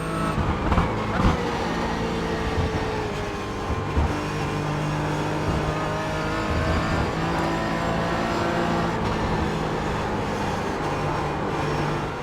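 Race car engines in the iRacing sim, cars running close together in the draft, drone steadily at a loud, sustained pitch with shifting harmonics throughout.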